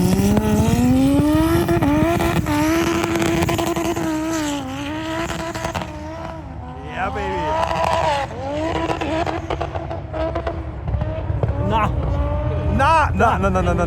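High-powered 1000+ HP drag cars, including an Audi S3 and a red VW Golf, roar up a ski slope, with loud sustained revving, rising engine pitch and abrupt gear shifts, close and unbroken.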